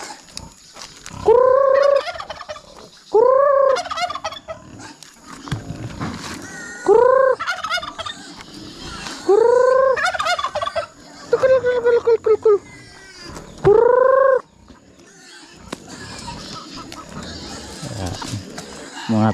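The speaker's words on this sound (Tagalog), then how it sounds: "Mga pabo." Several farmyard turkeys gobbling in repeated loud, warbling bursts close by, spaced out over time, with people talking in between.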